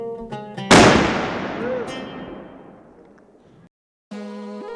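A single sharp gun blast fired to open a disc golf tournament at Ostoja Dworska, loud and close, its boom rolling and echoing away over a few seconds between stretches of music.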